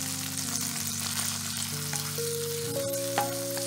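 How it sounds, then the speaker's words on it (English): Garlic sizzles in melted butter in a pan at a steady, soft fry, with a few faint stirring sounds and some steady tonal background hum, no talking. "Once your butter has melted, we're going to go in and add our garlic."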